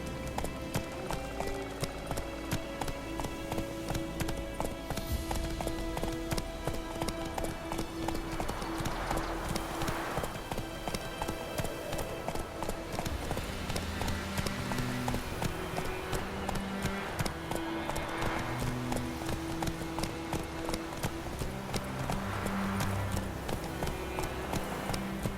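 Hooves of the horse Roach clip-clop in a steady galloping rhythm through The Witcher 3 video game, loud and continuous against a background of game music.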